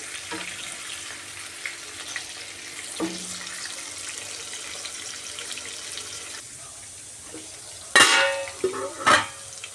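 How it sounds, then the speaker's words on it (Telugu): Stuffed bitter gourd fries in a pan with a steady, fairly quiet hiss and sizzle, near and continuous. Near the end come two louder bursts of clatter as the pan is stirred, with no speech. "ఒక పక్క ఫ్రై అయ్యాక ఇంకో పక్క మనము ఒక పది నిమిషాలు ఫ్రై చేసుకోవాలండి"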